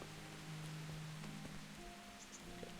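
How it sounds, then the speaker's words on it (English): Rain falls steadily in the medieval world of Kingdom Come: Deliverance, a soft even hiss with faint low tones and small scattered sounds underneath. "I love the game when it's raining."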